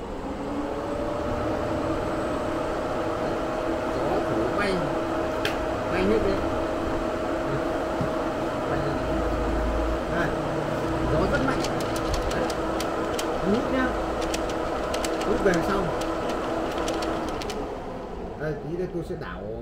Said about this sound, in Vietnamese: Quạt này nó chạy êm lắm.